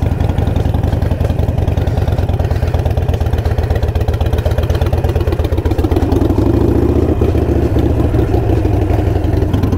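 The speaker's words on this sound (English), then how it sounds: "Just gonna use the friction zone a little bit, pull back on throttle, and just let the bike walk itself up." A motorcycle engine runs steadily and close, with a throttle lift midway as the bike is walked up a ramp into a truck bed, putting alone without talk.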